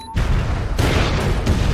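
Fireworks bursting in a scene from the 2007 film I Am Legend: loud, dense booming blasts with a sharp new burst near the start and another around three-quarters through, each followed by rumbling crackle.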